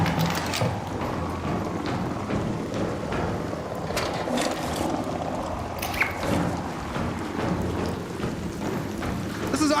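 Steady rain patters in a video game with scattered clicks and knocks, a continuous hiss that fills the background.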